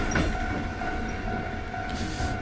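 A video game train rolls past a railroad crossing in Kamakura, giving a steady, loud rumble of rail cars with a brief brighter burst near the end.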